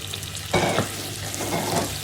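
Seven chicken feet sauté in a pan with garlic, onion and ginger, giving a steady close sizzle that swells into a louder burst of frying and stirring partway through.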